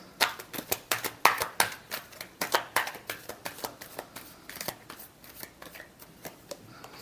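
Tarot cards are shuffled by hand at close range, a fast run of crisp papery riffles and taps that slows toward the end.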